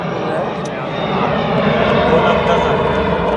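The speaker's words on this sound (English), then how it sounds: "you will be hearing sounds of the plane landing or taking off every now and then" A fixed-wing airplane landing or taking off beside St. John's Airport during a cricket match in Newfoundland, a steady loud engine drone that builds slightly and hums throughout.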